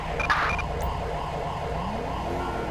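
Wailing ambulance siren in GTA V with the LSPDFR police mod, a steady rising-and-falling electronic tone cycling several times at moderate level, with a brief clatter at the start and no talk.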